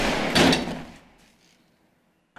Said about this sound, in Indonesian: Saat berusaha membuka kunci, Ji-woo yang sudah tidur terbangun karena mendengar suara pintu